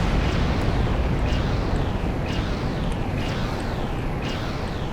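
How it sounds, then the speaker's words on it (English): Starship warp cores explode in the space game Star Trek Online: a dense, continuous roaring rumble with a series of sharp, evenly spaced blasts about once a second, loud and steady throughout. "warp cores make quite a boom"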